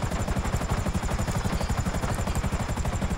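A helicopter in the video game GTA 5 gives a steady, loud rotor chop with fast, even thumping that runs throughout, and no voices.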